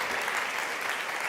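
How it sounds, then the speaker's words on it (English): Audience applause fills a conference hall at re:publica 2024, a dense, steady patter of many hands clapping together at close range with no gaps, lasting only a moment. "One round of applause for Chiara."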